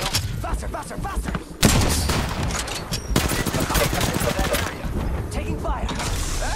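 Rapid automatic gunfire bursts in an Apex Legends battle royale match, loud and dense with sharp onsets, layered with gear and mechanism clatter, with a voice briefly heard under the shooting.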